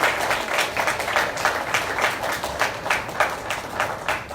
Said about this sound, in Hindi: तो हम प्रभु यीशु के लिए एक ताली बजाते हैं।